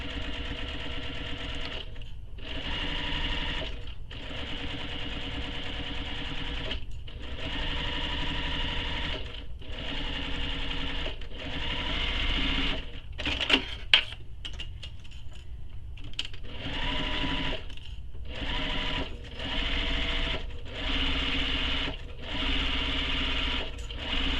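A sewing machine runs a tote bag seam in repeated short bursts with brief pauses between them, steady and close, with a few clicks and taps midway.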